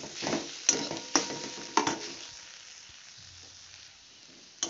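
Mashed potato and boiled peas are stirred together in a pan, giving soft scraping and a few sharp knocks of the utensil against the metal early on, then quieter squelching.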